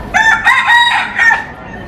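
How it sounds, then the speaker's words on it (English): A rooster crows loudly and close by near a temple in Pattaya, one full drawn-out cock-a-doodle-doo call with no voices over it. "All right, chicken."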